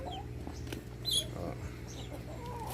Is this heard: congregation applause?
no